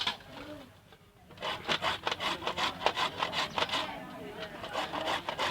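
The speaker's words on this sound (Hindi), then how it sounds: "जो बाकी गाजरें थे हमने 3-4 रखी हुई थी वो हम रगड़ लेंगे अब।" Carrots being rubbed against a hand grater, a steady series of close, rhythmic rasping strokes that keeps going after a brief pause, with no talk over it.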